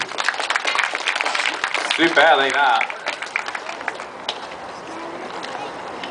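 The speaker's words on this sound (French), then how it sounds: "Donc, on peut l'applaudir" An audience at a seal show applauds after the seal's trick, steady clapping under a trainer's voice with a brief animal call midway, fading lower toward the end.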